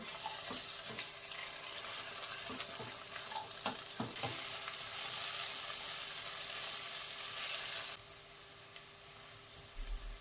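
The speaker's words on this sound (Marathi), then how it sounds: "पाव वाटी गाजर, पाव वाटी तोंडली, पाव वाटी बटाटा आणि पाव वाटी फ्लावर मिक्स करून परतून घेऊया." Carrot, ivy gourd, potato and cauliflower stir-fry in a hot pan for spiced rice: a continuous sizzle with clinks and scrapes of stirring, easing to a quieter hiss near the end.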